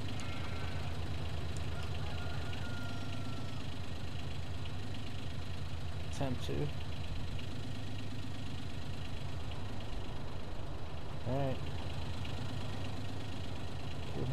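A farm vehicle's engine idles in Farming Simulator 19, a steady low mechanical drone running throughout while someone talks over it.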